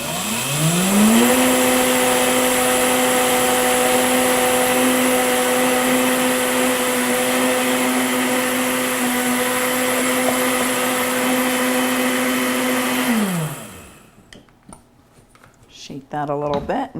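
A kitchen blender whirs steadily for about thirteen seconds, grinding two cups of flour substitute for cinnamon bread, then winds down and stops, leaving faint clatter behind.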